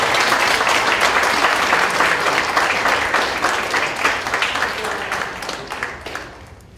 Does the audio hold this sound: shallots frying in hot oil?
no